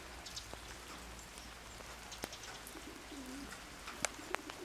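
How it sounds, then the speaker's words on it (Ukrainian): Soft patter of light rain with scattered drips tapping nearby, while a dove coos faintly in the background. "якщо отакий дощик йде, як зараз"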